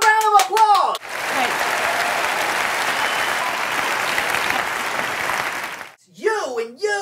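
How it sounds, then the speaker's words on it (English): Audience applause at an awards show, a dense, steady burst of clapping lasting several seconds, framed by a voice speaking just before and after. "So give yourself a round of applause."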